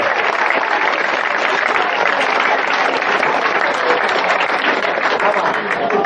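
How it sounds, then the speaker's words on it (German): A large crowd gives sustained, thunderous applause for the bands at a Cologne Kölsch music festival, dense clapping filling the air evenly from start to finish. "ich glaube, da gibt man einen riesen Applaus, auch mit denen, die heute auf der Bühne waren"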